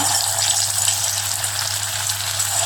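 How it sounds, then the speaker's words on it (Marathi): Round fasting balls deep-frying in hot oil over a very low flame give a steady, even bubbling hiss that carries on unbroken, with no one talking. "अगदी कमी गॅसवर तळून घ्यायचं, अगदी मंद गॅसवर होऊ देऊया"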